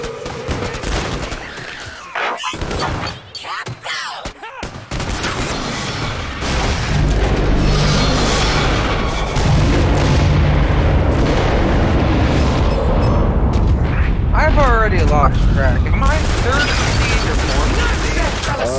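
Gunfire from center fire rounds in Killing Floor 2, loud rapid shots and booming blasts in dense bursts, building into a continuous chaotic barrage of explosions with someone talking over it.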